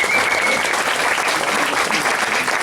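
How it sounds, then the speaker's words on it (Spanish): An audience at a book presentation breaks into sustained applause, dense clapping holding steady and fairly loud for the whole short stretch. "Un aplauso para él."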